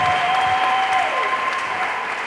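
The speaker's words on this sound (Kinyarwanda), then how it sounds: "Dukomere Imana amashyi kubw'ijambo" Applause from a church congregation at a sermon fills the scene, steady and dense, with a sustained tone sounding underneath throughout.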